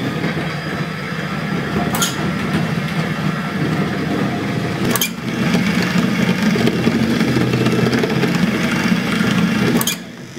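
A 20,000-watt combustion engine drives a 400-kilogram, roughly 4-meter robot vehicle, running steadily and fairly loudly throughout. It has a constant low rumble and a slight step up in level midway, and brief sharp ticks punctuate it at intervals.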